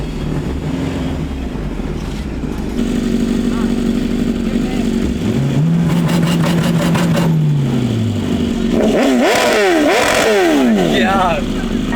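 A turbocharged car revs hard at an airstrip meet, its engine roaring loudly under heavy wind buffeting on the microphone, with pitch rising and falling through several sweeps and a fluttering turbo near the end; people talk over it.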